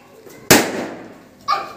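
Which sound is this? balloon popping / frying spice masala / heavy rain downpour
balloon popping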